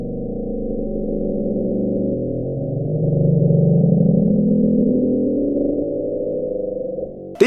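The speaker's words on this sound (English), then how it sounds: "scientists have put forward the explanation that it's the sound of ice sheets cracking that reverberates throughout the whole ocean" The Bloop, a mysterious loud underwater sound recorded off South America, comes as a low, continuous rumbling drone with a slowly rising, swelling tone in the middle, muffled and without any high content, ending abruptly.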